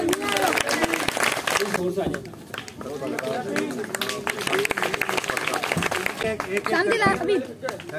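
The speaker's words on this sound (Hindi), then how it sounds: "तालियां बजाओ, तालियां।" Children clap in irregular bursts at a teacher's retirement party at a railway school in Mirpurkhas, the applause mixing with loud talk, chatter and movement close by throughout.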